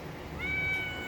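A cat lets out one loud, drawn-out meow, close to the microphone and alone, rising then holding steady for about half a second.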